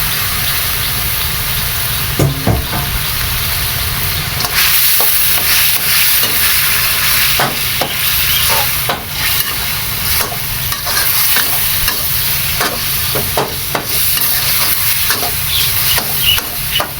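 Chopped fish and fish roe stirred in a pot for a Thai fish curry with papaya: loud, continuous sizzling hiss with repeated scraping stir strokes throughout, and no talking.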